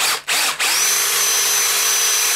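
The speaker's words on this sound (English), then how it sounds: "An extremely blunt drill." Close drilling into brass with an extremely blunt bit, a short stutter at the start and then a steady high-pitched whine that runs to the end.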